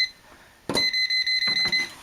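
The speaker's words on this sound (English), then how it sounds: "Got beeping there." An electrical socket tester plugged into a faulty, wired-backwards outlet gives a quick series of about eight loud, sharp electronic beeps in a steady rhythm after a brief quiet start.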